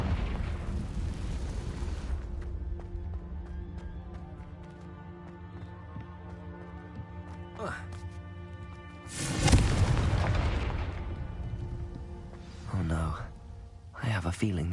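A Confringo blasting spell goes off in Hogwarts Legacy, a loud booming burst that rises sharply midway through a busy game soundscape, with a smaller blast near the end and talk around it.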